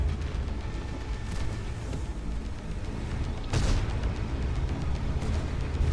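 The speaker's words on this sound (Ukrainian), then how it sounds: "Зараз перезарядка у мене закінчиться і я знову бахну." Weapon fire and heavy explosions in a video game sound out as a dull rumbling barrage, with one sharp blast near the middle standing out over a constant low roar.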